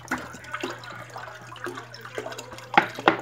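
About eight and a half litres of water poured into a large basin while making homemade ginger soda, giving a low splashing gurgle over a steady hum, with two sharper splashes near the end.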